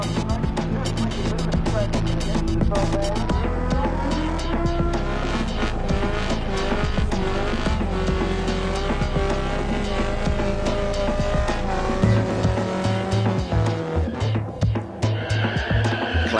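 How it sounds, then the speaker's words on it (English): A nostalgia front-engine dragster and a competition altered race at a Santa Pod Raceway drag-racing retro show, giving off a loud, continuous engine roar with shifting pitch that goes on without a break. "a couple of nostalgia-style racers, a front-engine dragster and a competition altered from the Wild"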